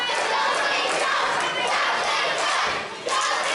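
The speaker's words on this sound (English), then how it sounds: "This crowd completely, totally behind Jumpin Josh" A wrestling crowd at a PPW PowerSlam event roars and cheers loudly and continuously, a dense wall of shouting voices that dips briefly near the end before surging again.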